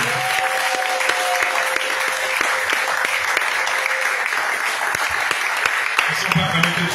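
Church congregation applauding together, a dense steady clapping that fills the space, with a voice speaking over it.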